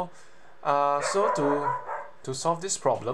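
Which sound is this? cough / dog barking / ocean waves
dog barking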